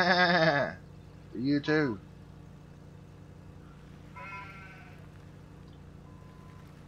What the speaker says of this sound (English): The sheep has been born. Your sheep needs grass.